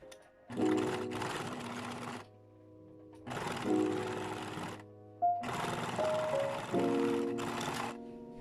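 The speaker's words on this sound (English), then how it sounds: "I'm going to lock this part with a straight stitch" A sewing machine running a straight stitch on a backless summer dress, in three loud, steady bursts of motor whir and needle chatter separated by short pauses.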